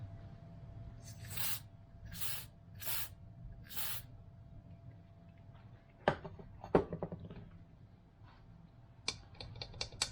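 Electrical contact cleaner sprayed onto the gearbox switches of a 1971 Triumph Stag, heard as four short aerosol bursts close up, then clicks and small mechanical knocks from the handled switches.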